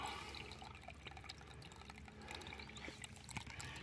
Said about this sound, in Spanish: todo el agua que viene por ahí para abajo, pues entra dentro del tubo